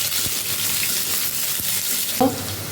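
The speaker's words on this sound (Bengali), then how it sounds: "কিশমিশটাকে একটু হালকা করে আলুটাকে ভেজে নেব" Potatoes and raisins fry lightly in oil, giving a close, steady sizzle with a few soft taps from stirring and a brief clatter near the end, and no talking.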